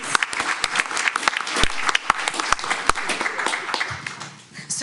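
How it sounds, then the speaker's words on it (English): An audience at a school district board meeting applauds student science project winners. The clapping is close and uneven, with sharp individual claps standing out over the crowd, and it thins out toward the end. "can we give a big round of applause to all these amazing"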